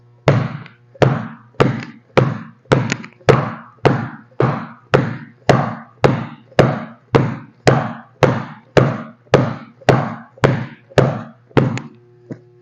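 A basketball bounces on an indoor court during a crossover dribbling drill, about twenty sharp, evenly spaced thumps in quick steady rhythm, loud and close with nothing else heard.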